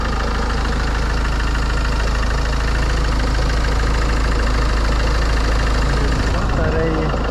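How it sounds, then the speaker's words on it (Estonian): Automatic-transmission car with around 230,000–250,000 km on it, engine idling steadily and smoothly, a loud continuous low rumble throughout, freshly started after a flat battery. "Väga mõnusalt, hästi pehmelt töötab mootor."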